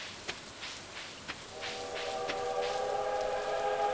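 A train passes in the video game Stardew Valley, with a rolling rumble and faint rhythmic clicks building into a sustained, multi-tone whistle-like horn that holds steadily, with no voices.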